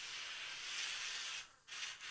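A BISSELL SteamShot Deluxe hard surface steam cleaner hisses out a steady jet of steam, cutting off briefly near the end and then resuming, with no voices.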